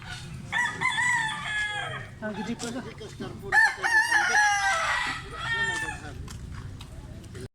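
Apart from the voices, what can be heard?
rooster crowing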